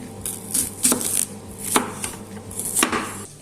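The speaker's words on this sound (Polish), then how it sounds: "Teraz pokroimy sobie cebulę." Onion being sliced with a knife on a cutting board, a run of sharp, close chops in an uneven rhythm with short pauses between bursts, no talking.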